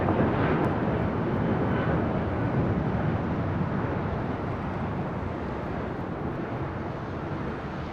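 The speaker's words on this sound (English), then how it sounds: "Taking off, that was American Airlines flight 2546 heading to St. Louis on that A319" American Airlines Airbus A319 taking off from runway 25 right at LAX, a loud sustained jet roar that fades slightly over the stretch, with no voices.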